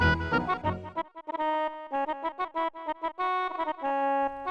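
One isolated SNES sound channel playing a single instrument line from video game music, crisp synthesized notes in a quick choppy rhythm with short gaps, starting with a dense burst before thinning to a lone bright melody.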